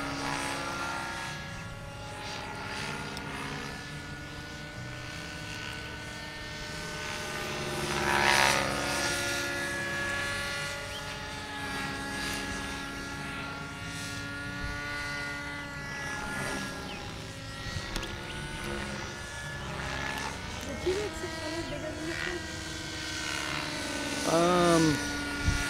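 A T-Rex 600-size RC helicopter flies at an airfield, its rotor and motor buzzing with pitch shifts as it passes nearer and farther, and people talk intermittently over the steady drone.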